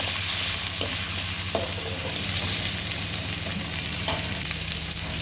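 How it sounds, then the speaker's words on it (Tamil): Sliced onions sizzle steadily in hot oil in a pan while cooking for a Chettinad garlic kuzhambu, a continuous close frying hiss with occasional stirring clinks and no talk. "வெங்காயம் நல்லா வதங்கட்டும்"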